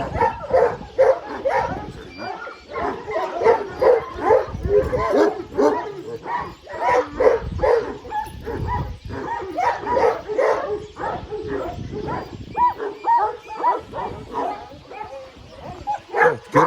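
A Kangal dog barks repeatedly in a steady run of close, loud woofs with a few yips and whimpers mixed in, while people talk at the same time.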